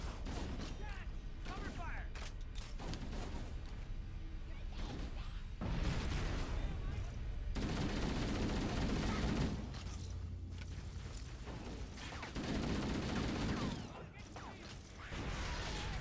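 Rapid gunfire bursts and booms from the shooter Halo: Combat Evolved, dense and continuous with louder stretches, mixed with game mechanisms and a player talking over the action.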